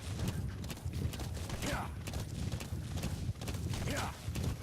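A horse in Metal Gear Solid V: The Phantom Pain moves with a steady clip-clop of hooves, with rhythmic thuds and two brief whinny-like sweeps, while someone talks casually over it.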